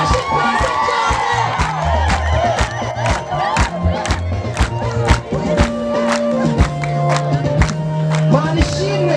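At a church gathering, a large crowd claps in a steady, rhythmic beat while voices chant and sing loudly over the clapping throughout.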